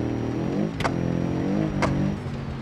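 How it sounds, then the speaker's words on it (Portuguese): A Subaru engine in BeamNG.drive drones and revs in a loud, steady hum on a difficult road, its muffler blown, with two brief bright bursts breaking through; no voices. "Eu gosto desse tipo de barulho do carro"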